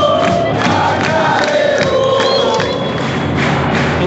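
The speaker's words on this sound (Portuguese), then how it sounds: "Torcida dando um apoio pros jogadores" Football crowd at a São José versus Grêmio Prudente match during half-time, loud sustained chanting and cheering from a large stadium audience, a dense roar of voices with rhythmic shouts rising over it.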